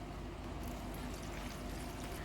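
Water poured steadily into a bowl of sifted gram flour (besan) for fritter batter, a continuous close trickling pour lasting a couple of seconds with no voices.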